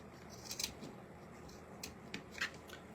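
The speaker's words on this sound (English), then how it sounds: "you got two pieces together, you want to cut out a triangle" Scissors snip through two stacked pieces of fleece to cut out a triangle, giving a few faint, close cuts spaced irregularly over quiet room tone.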